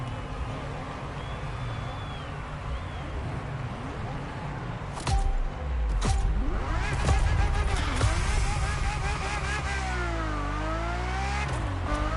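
A Ferrari F50 in the racing game The Crew Motorfest drives with a steady engine drone, then surges louder around midway with revving pitch sweeps and gear changes, the engine note rising and falling close up throughout.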